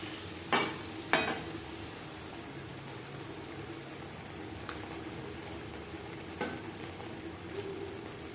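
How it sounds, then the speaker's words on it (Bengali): Chicken and onions are stirred in a frying pan for an aloo chicken curry, giving a steady low sizzle. A few sharp scrapes and clinks from the spoon cut through, with a louder pair early on. "পেঁয়াজের সাথে মাংস বেশ ভালো করে মিক্স করে দেবো"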